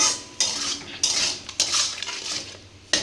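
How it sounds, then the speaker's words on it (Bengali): Spice masala being stirred and fried in a kadai, a metal spatula scraping and clattering against the pan in steady strokes with a soft sizzle beneath, close and fairly loud, with a few sharper knocks. "এবার ভালো করে এটা কষিয়ে নিতে হবে মশলাটাকে।"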